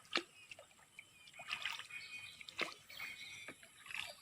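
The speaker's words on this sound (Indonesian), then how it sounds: "inilah Sungai Kaingaran. Nampaknya tenang saja pada ketika ini." Calm water on the Sungai Kaingaran river trickles and laps softly, with faint drips and small splashes close by in a quiet outdoor setting.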